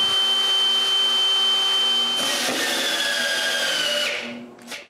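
A power drill drives screws into a clamped wooden piece, a steady loud whine running for about four seconds before winding down, followed by a couple of brief clicks.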